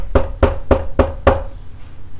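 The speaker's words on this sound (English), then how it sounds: "The scholar showed up at 2 o'clock and knocked on Nasruddin's door." Five firm knocks on a wooden door by a visiting scholar, evenly spaced and close, followed by quiet room tone.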